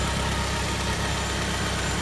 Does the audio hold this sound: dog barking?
no